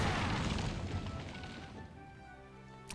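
A turret blows up in the video game Valkyria Chronicles, a loud booming blast that rumbles and slowly fades over a few seconds, ending in a small sharp pop.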